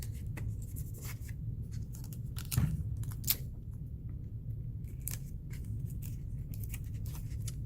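Tape being handled while a plant model's pieces are stuck down, close short snips and crinkly clicks scattered over a low steady hum, with no talking.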